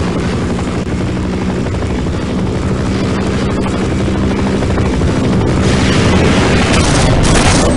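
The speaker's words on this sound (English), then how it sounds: "And of course the helicopter then shows up out of nowhere to get me." Helicopter in the Half-Life video game, a loud continuous rotor chop with engine roar that stays steady and close throughout, with booming impacts mixed in and no talk.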